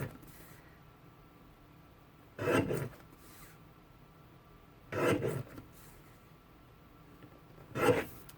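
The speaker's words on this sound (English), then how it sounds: "I love that my trimmer is capable of making those tiny little tidy cuts" A paper trimmer slicing paper strips: three short, crisp cutting swipes spaced a few seconds apart, close by in an otherwise quiet room.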